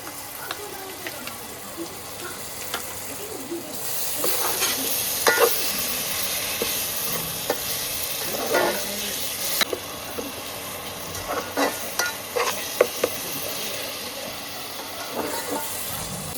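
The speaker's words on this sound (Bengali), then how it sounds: "তো পেঁয়াজগুলো মোটামুটি বাদামি করে ভাজা হয়ে গেছে" Browned onions with ginger-garlic paste fry for a Bengali chicken curry, a low sizzle under repeated clattering stirs and scrapes in the pot, with a faint watery hiss; no talking.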